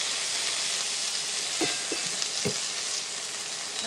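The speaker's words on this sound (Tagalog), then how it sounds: "Fry them." Frozen tofu fries in oil over medium heat for vegan japchae, giving a steady close sizzle throughout with a few soft clicks and pops partway through.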